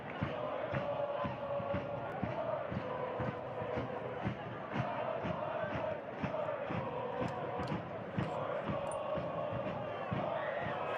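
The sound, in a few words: soccer crowd singing a score-a-goal chant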